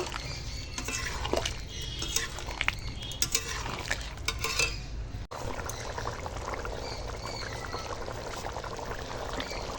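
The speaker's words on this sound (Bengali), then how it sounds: "এখানে টক দই আছে ফাটিয়ে নিয়েছি এবার দিয়ে দেবো ওপর থেকে ভালো করে মিশিয়ে নেব" Whisked sour yogurt is poured into a cauliflower curry and mixed, a steady close wash of stirring and scraping in the pan with small clinks throughout.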